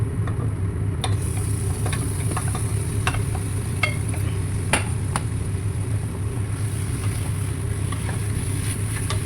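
Mutton pieces frying in a pan for a home-style mutton curry, a steady low sizzle running throughout with occasional faint clicks of stirring, no talking.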